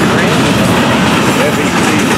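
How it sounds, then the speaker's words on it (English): A freight train with double-stack cars rolls past close by, a loud, continuous rumbling roar of wheels and cars with no distinct breaks, filling the whole stretch. "Doing the honor with the hot train."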